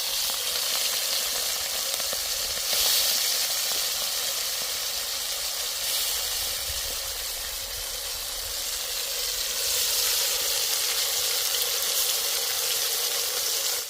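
Shrimp fry lightly in hot mustard oil in a kadai, a dense, continuous loud sizzle and hiss that holds steady throughout with gentle surges.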